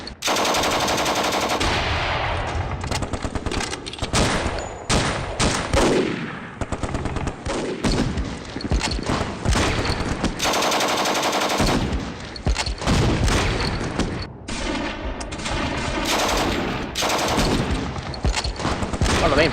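Light machine gun fire from the wargame Steel Panthers: World at War, dense repeated bursts of rapid shots that continue almost without pause, loud and harsh throughout.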